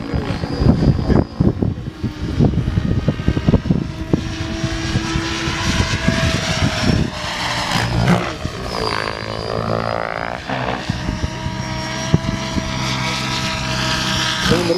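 A LOGO 800 radio-controlled helicopter flies at an outdoor event, its loud rotor thump and whining engine pitch rising and falling as it manoeuvres nearby, continuous for the whole stretch.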